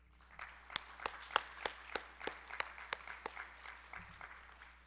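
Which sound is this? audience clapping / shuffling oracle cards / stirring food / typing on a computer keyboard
audience clapping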